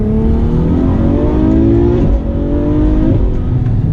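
Ferrari F12 with a V12 engine accelerating hard in race mode, a loud, steady roar whose pitch climbs through two upshifts, heard from inside the car.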